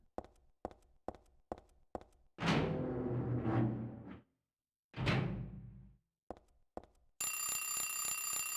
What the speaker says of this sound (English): Oh, there's the alarm clock